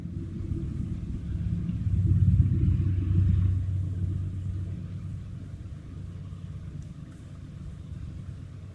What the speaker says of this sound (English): It's waiting for this train to pass by.